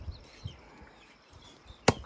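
A local hill rooster is cut into pieces with a blade. Quiet, low background rustling leads to one sharp, loud chop just before the end.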